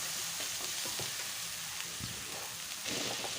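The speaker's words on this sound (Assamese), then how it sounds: "এতিয়া মই অকমান ভালদৰে ফ্ৰাই কৰিম" Ground spices and ginger-garlic paste fry in a pan as they are stirred, giving a constant close sizzle with rhythmic scraping and a louder burst of crackling near the end, with no speech.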